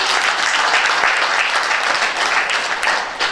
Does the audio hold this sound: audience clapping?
yes